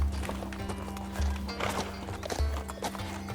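Horse hooves clopping in a steady walking rhythm near a boat landing, with a low engine-like hum and background murmur of voices underneath.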